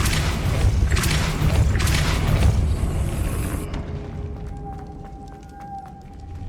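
Depulso spell cast in the video game Hogwarts Legacy: a heavy booming blast with rumbling low end and crashing bursts, then cutting to a quieter ringing, tonal tail with faint clicks.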